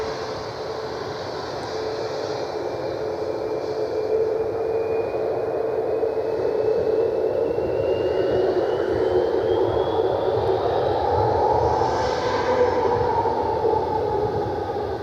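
A CRJ regional jet taxiing out at Cleveland Hopkins airport gives a steady, distant engine whine with a broadband roar, plus a slowly rising tone partway through, heard alone without talk.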